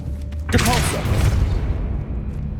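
A Depulso force spell fires in Hogwarts Legacy, a sudden booming burst that lands at about half a second and rolls into a long rumbling tail of thuds and swishes, loud and close, with a brief voice-like sound near its start.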